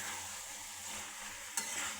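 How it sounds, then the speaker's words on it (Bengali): Chickpea and potato curry being stirred in a pan after garam masala is added, a steady soft scraping and bubbling hiss with a brief sharper clink near the end, close and alone. "এবার আমি এর মধ্যে দিয়ে দেবো একটু গরম মশলা গুঁড়ো, ভালো করে মিশিয়ে নেব।"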